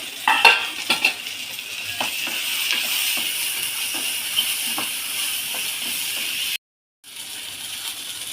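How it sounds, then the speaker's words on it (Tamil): Food, including tomato, sautés in a pan with a steady sizzle and hiss, broken by scraping stirring strokes, a few sharp clinks early on, and a brief silent gap near the end. "நல்லா வதக்கிக்கலாம்."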